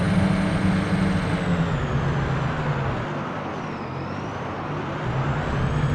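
A Volvo Comil DD double-decker bus engine in American Truck Simulator, a steady loud diesel drone with a slight dip and rise in pitch, heard alone.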